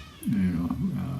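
A rescued kitten meows loudly from its cage in one drawn-out, wavering cry that dips and rises again, close and clear, running for about a second.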